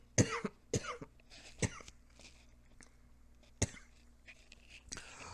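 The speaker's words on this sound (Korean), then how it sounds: "지금 기침이 나와서" Several sharp coughs break out close to the mic, spaced irregularly with quiet gaps and a few softer throat noises between them.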